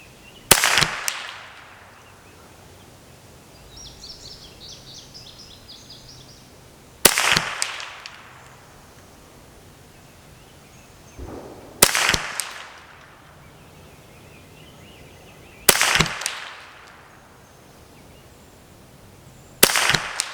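.22 rifle shots fired at 100 yards on a range, from a Kidd 1022 or CZ457 MTR: five sharp, loud cracks spaced several seconds apart, each with a short echoing decay, faint birdsong between.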